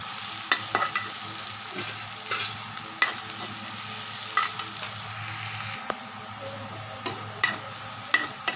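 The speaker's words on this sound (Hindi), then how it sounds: "अभी चलिए इसमें मैं आलू डाल देती हूँ, ये भी इसमें फ्राई हो जाएंगे" Potatoes frying in a pan, a steady sizzle under repeated sharp scrapes and taps of a stirring spoon at an uneven rhythm, close and without speech.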